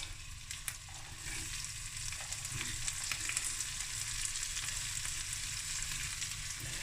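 Chopped spring onion sizzles in a pan of smoked snoek fried rice, a steady close frying hiss with a few light clicks and scrapes throughout.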